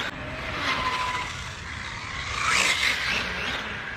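An HPI RS4 Flux GT40 radio-controlled car, just after a rear differential repair, whines past with a buzzing electric motor and a brief tire squeal, rising to its loudest midway.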